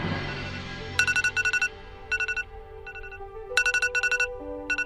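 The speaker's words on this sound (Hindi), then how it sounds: "मेरा अलार्म बज गया।" A phone alarm rings in bursts of rapid electronic trills over a soft background melody, loud and repeating in several groups, with no talk.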